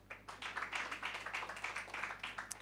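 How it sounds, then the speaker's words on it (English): Audience applause at a startup demo semifinal event, a steady patter of many hands clapping at moderate distance for a couple of seconds. "Applause."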